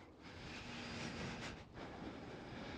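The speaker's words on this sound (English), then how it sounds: "that was an American Airlines 787" An American Airlines Boeing 787 jet at Schiphol airport, heard as a broad, steady engine roar that swells briefly and then holds. It sounds fairly distant and continuous, with no voices.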